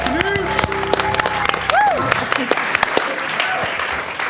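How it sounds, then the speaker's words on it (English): An audience at a live improv show claps over keyboard notes, the applause scattered and fairly close, with a few cheering voices rising within the crowd. "I want you to give a round of applause to people behind the scenes here."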